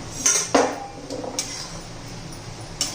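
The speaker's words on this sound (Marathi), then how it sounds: "आता आपण झाकण काढून चेक करूया" A lid is lifted off a cooking pot of amla morawala (Indian gooseberry preserve), giving a few sharp metallic clinks and a brief scrape close by, followed by quiet room tone.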